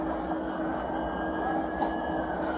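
A moving train rumbles steadily in a brief, continuous low roar with a faint tonal whine, no voices over it.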